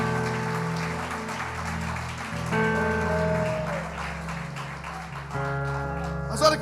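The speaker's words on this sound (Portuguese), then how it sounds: "Dá uma salva de palmas para adorar a Ele." A church congregation applauding during a worship service in Lisbon, a steady wash of clapping beneath sustained music and a speaking voice.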